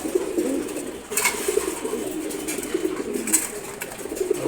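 Pigeons, including a male Chila pigeon, coo at a pigeon farm, repeated short low calls from nearby birds, with a brief rustle or flutter partway through.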